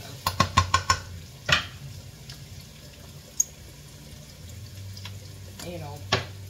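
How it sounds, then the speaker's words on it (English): Mushrooms sautéing in a pan, a soft steady sizzle under a few sharp utensil clacks against the pan and stirring scrapes, with faint background noise. "once I've sauteed the mushrooms a little bit"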